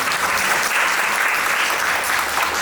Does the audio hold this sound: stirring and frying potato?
no